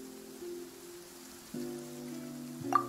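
Rain falling in the video game Genshin Impact, a soft steady patter beneath sustained low background tones, quiet and even throughout with no voices.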